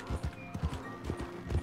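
Donkey hooves clip-clopping in the video game Red Dead Redemption 2, a brief steady series of muffled thuds at a walking pace, fairly quiet.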